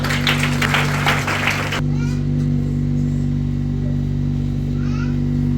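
Church congregation applauding during Sunday worship: a short burst of dense clapping in the first couple of seconds cuts off abruptly, leaving a loud, steady electrical hum with faint background sounds.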